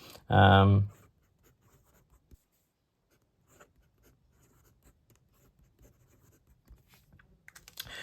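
A disposable fountain pen with a medium nib and wet ink line scratches across paper in faint, scattered strokes after a brief burst of voice at the start.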